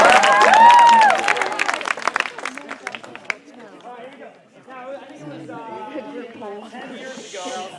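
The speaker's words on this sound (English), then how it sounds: "Everybody give a big round of applause." A campfire audience bursts into clapping and cheering for a few seconds, loud and close, then the applause fades while people keep chattering and talking.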